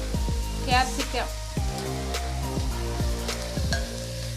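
Chopped carrots, beans, cabbage and capsicum fry and are stirred in a pan over high flame for vegetable fried rice, a steady close sizzle punctuated by repeated metallic clangs of a spatula, with a voice talking over it.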